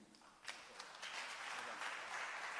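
Audience applause at an energy conference afternoon session, a steady wash of clapping that swells and holds throughout after a few scattered early claps.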